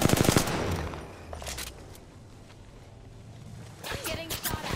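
Rapid automatic gunfire in the Apex Legends video game, dense bursts at the start and again at the end with a quieter stretch between, heard with some talk.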